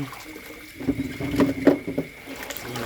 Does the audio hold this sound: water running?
yes